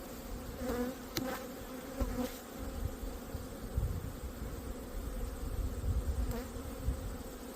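Honey bees buzzing close and steadily around an opened hive during an inspection of a nearly full honey super, with a few louder passes of single bees near the microphone.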